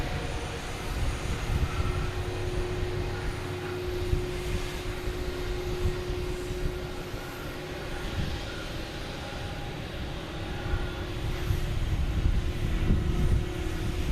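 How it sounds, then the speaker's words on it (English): A Delta Airbus A321neo taking off from Boston Logan Airport, heard as a loud, steady jet-engine roar with a sustained whine that swells slightly toward the end and has no talking over it. "We have a Delta A321 Neo taking off, heading to Phoenix."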